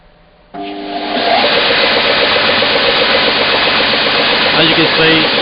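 An Axminster AP2260BS2 belt and edge sander switches on abruptly after a short quiet moment and settles into a loud, steady whirring drone with a humming motor tone, close and continuous.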